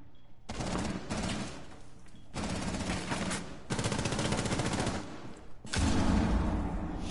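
Automatic weapons fire rapidly in a PS4 league match, with several long, dense bursts coming close and loud and broken by short gaps. The last burst is the heaviest and fullest.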